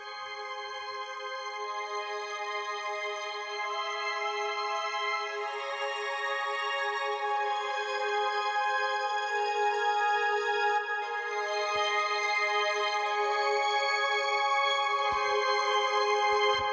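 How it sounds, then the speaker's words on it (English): A Harmor pad preset holds thin, high, string-like sustained notes in a smooth, continuous, steady tone that lasts the whole stretch, with only a few faint clicks near the end. "So what I did is I opened Harmor and I just loaded a really simple one of the presets, a pad preset"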